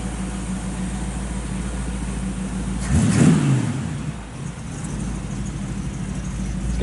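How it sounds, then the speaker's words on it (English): A 1948 Chevrolet 3100 pickup with dual exhaust idles with a low, even rumble, rising in one short rev midway before falling back to its mellow, moderate idle, heard close with no talking. "Got nice dual exhaust on it. It's not loud, just good sound."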